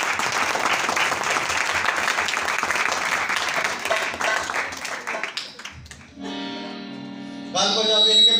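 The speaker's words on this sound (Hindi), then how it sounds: "इनके लिए जोरदार तालियां करें" A crowd at a Christmas church gathering gives a burst of dense, loud clapping that fades away. Music then starts up with sustained tones.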